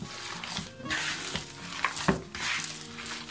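Chicken burger mixture being stirred in a bowl, with soft wet mixing and scraping sounds in irregular bursts, close and moderately loud, without speech.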